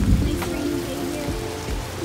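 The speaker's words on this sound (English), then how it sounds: "Nice rainy day here." Steady rain falls and patters on surfaces on a humid day in an outdoor reptile setting, a dense, constant hiss with scattered nearby drops and no talking.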